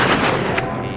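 Two loud gunshots are fired from a red jeep, heard as a harsh, close, reverberant burst that fills the whole moment.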